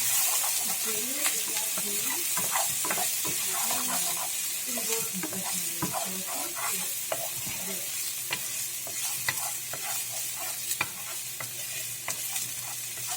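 Garlic frying in a pan for beef tacos, giving a steady, loud, close sizzle with scattered crackles and occasional stirring scrapes throughout, with a voice faintly present beneath.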